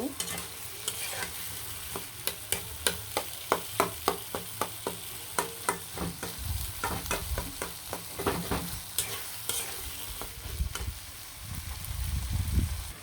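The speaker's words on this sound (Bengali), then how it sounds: "আলু আর বোট দিয়ে ভালো করে লাড়াচাড়া দিয়ে কিন্তু খুব সুন্দরভাবে ভেজে নেব" Potatoes with spices frying in a pan and being stirred, a steady bright sizzle broken by a long run of sharp, rhythmic scraping clicks from the spoon, close and with no voices.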